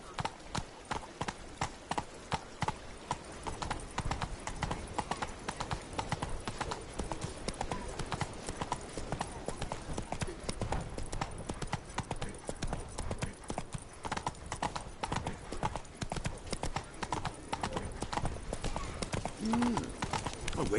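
A horse gallops without pause in The Witcher 3 Blood and Wine, with a fast, even run of hoofbeats close by.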